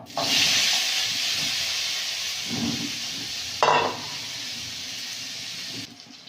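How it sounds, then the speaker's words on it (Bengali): Cauliflower pieces rubbed with salt and turmeric frying in hot oil in a wok, giving a continuous close hiss and sizzle with a couple of short stirring scrapes partway through and no voices. "ফুলকপিটা ভেজে নেব।"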